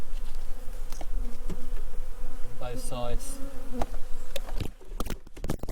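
Honey bees swarm over a hive frame in a starving colony, their dense, steady buzzing drone filling the whole stretch at close range while a voice briefly speaks over it.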